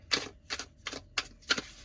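Tarot cards are shuffled by hand in five short, crisp bursts of papery riffling spaced at an even rhythm, close and fairly quiet, with no talking.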